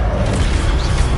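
A single loud, dense burst from an Expelliarmus spell cast in Hogwarts Legacy, sustained and broadband for about a second with no talk over it.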